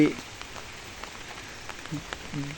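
Rain falls steadily on a surface, a soft continuous patter with occasional louder drops, heard close by; a voice is faintly present beneath it.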